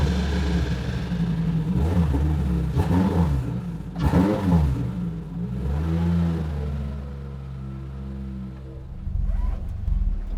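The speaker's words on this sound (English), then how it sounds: "I'm gonna go take this thing for a spin and make sure there's no funny noises." A Toyota MR2 Spyder with a swapped 2AR engine accelerates on a test drive, revving up through gears in repeated rising pulls, then settling into a steadier cruise with a final rev.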